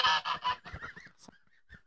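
Geese on a Welsh smallholding honk in a loud burst of calls that fades into quieter, scattered honks, close by with no talking.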